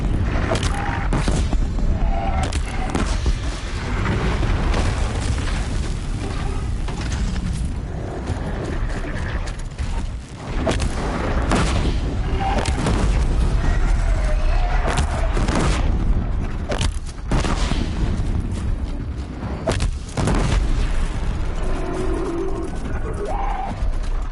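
Repeated explosions in Horizon Zero Dawn, heavy booms and crashing blasts scattered throughout over a constant busy din of machine clanks and battle noise.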